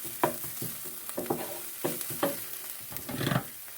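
Onions sizzle in a hot pan while being stirred, heard as intermittent bursts of scraping and frying crackle, close but fairly quiet, with no talking.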